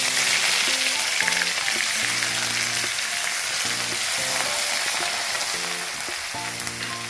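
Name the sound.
crushed garlic and ginger frying with mustard seeds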